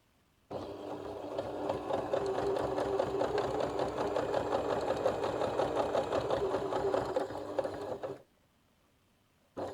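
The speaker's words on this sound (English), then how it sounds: "then we want to stitch a number of times on that folded over bit so that it's all held." A sewing machine stitches the cord channel of a fabric laundry bag, running in one steady, fast rhythmic whir for about eight seconds before stopping abruptly, close and clear.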